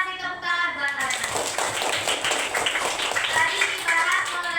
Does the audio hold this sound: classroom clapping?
yes